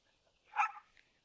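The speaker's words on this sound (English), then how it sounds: "Is that my dogs losing their mind right outside a frame?" A single short, muffled bark from a dog somewhere off to the side, faint and brief against a quiet background.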